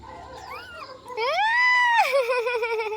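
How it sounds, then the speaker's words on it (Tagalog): A young puppy with pretty coloring gives high, thin whimpers: a short wavering whine, then a longer rising cry that trembles as it fades, close by with no talking. "Ang cute ng tuta na yan."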